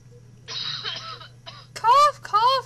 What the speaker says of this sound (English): Cough, cough, cough! That's all you ever do!